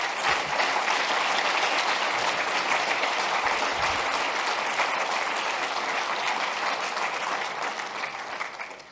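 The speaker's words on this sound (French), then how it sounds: "Moi, je voudrais qu'on remercie un petit peu tout ce monde-là et qu'on les applaudisse." A conference crowd at the Forum PHP 2017 closing keynote applauds the organisers and sponsors with sustained, even clapping that holds strongly for about nine seconds, then begins to thin and fade at the very end.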